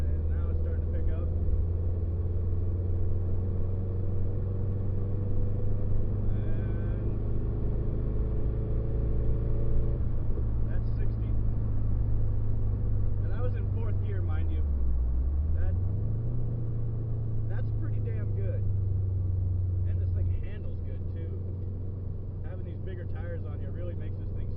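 A turbocharged car pulls in fourth gear from low revs with a little turbo lag, its engine giving a steady, droning rumble heard from inside that dips briefly midway and then holds on.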